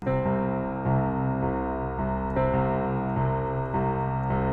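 Piano playing the slow intro with deep bass octaves in the left hand, notes struck at a steady pace and ringing into one another, clear and alone.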